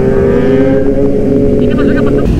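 A powerful Honda CBR1000 sport motorcycle engine idles and revs loudly close by, a throaty rumble with a faint voice underneath.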